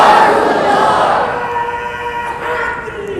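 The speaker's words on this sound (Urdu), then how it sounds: "اب نعرہ لگانا ہے، ذرا یہ خالی جگہ پر کریں ذرا۔" A crowd at a religious gathering calls out a slogan together in a loud, drawn-out collective shout that fades and then briefly rises again.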